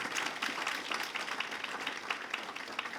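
An audience at an academic ceremony claps steadily, a dense patter of many hands in a hall, moderately faint and continuing without a break.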